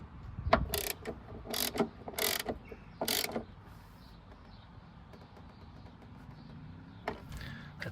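Mechanical ratcheting and clicking as a door check strap is tightened on a Ford Fiesta ST 150, with several loud, sharp bursts in the first few seconds and one more near the end, over quiet background.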